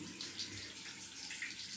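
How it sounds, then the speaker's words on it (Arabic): Tap water gushing into a bathtub to refill it with clean water for rinsing a washed fibre quilt, a steady close splashing rush. "هصفيه واعبي البانيو ميه نضيفه تاني"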